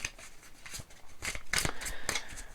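A tarot card is laid onto a spread during a reading, soft papery slides and light taps of cards handled close by, quiet and brief with no talking.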